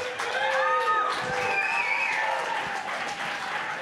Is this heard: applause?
yes